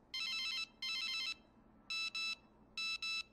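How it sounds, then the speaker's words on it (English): A mobile phone ringtone plays nearby in repeated bursts: two longer tonal chimes, then two quick double-pulse pairs, bright and electronic against a quiet room. "It's your phone."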